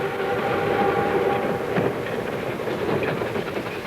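Train arriving on a morning in June 1914, a continuous rolling rumble with faint rhythmic clatter and hiss, steady and fairly loud throughout.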